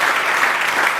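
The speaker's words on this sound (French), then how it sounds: "Est-ce qu'on peut acclamer Dieu?" A church congregation applauding during a sermon, a dense, steady burst of many hands clapping together at close range.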